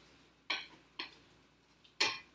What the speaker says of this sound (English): Okay, let's stir these potatoes.